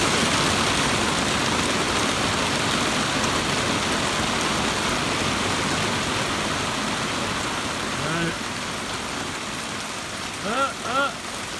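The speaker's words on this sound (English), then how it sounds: "here comes some more rain" Steady, dense roar of heavy rain pouring down over a pasture and creek, continuous and loud throughout, with a few brief voice sounds near the end.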